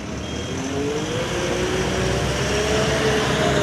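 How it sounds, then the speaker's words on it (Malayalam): A tourist bus from Tamil Nadu grinds up a steep, curving hill road, its engine droning loud and near with a steady, slowly rising hum and no talking. "ഇതാ തമിഴ്നാട്ടിൽ നിന്നൊക്കെ വന്ന ടൂറിസ്റ്റ് ബസ്സാണ് വരുന്നത്"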